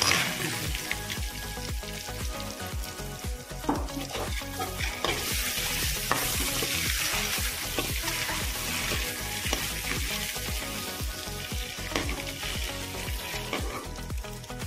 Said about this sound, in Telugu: మనం ఇప్పుడు వేపుకున్న కోడిగుడ్లు